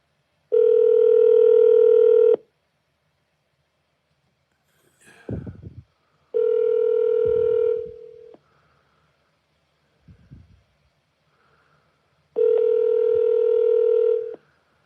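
A ringback tone from a phone call placed through an Alexa smart speaker sounds three times, each a steady electronic burst of about two seconds separated by pauses, with faint small noises in the gaps.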